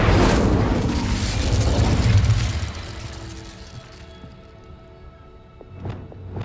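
Confringo and Incendio spells in Hogwarts Legacy go off as a loud, rumbling fiery blast that slowly fades away. A couple of sharp cracks follow near the end.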